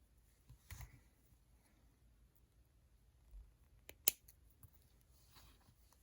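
Scissors snipping jewelry wire: a few faint soft snips and clicks in a quiet room, with one sharper, louder cut near the end.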